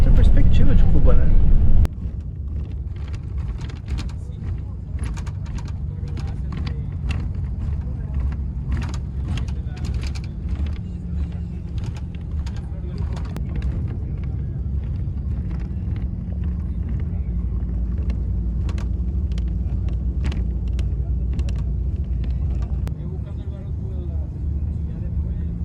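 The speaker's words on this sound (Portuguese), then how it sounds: "A gente está subindo uma loma, o ônibus só subindo, para depois descer." A bus climbs a hill on a road in Cuba, with a steady, loud engine drone and road rumble throughout, wind buffeting and rattles on top, and a voice talking over it.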